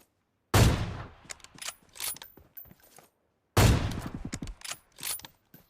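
Two AWM sniper rifle shots in PUBG Mobile sound about three seconds apart. Each is a sharp, loud crack followed by a string of metallic bolt-action clicks and clacks.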